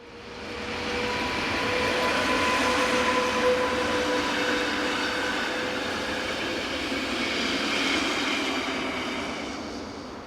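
The 0644 train from Disentis hauled by electric locomotive 707 rumbles past with a loud, sustained roar of wheels and faint tonal hums, building and holding steady before easing slightly, with no voices.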